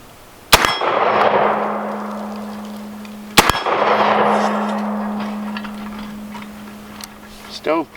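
A VR 80 shotgun on the heavy gas ring fires 2 3/4 inch slugs: two sharp, loud shots about three seconds apart, each followed by a long ringing decay, with a clatter at the end.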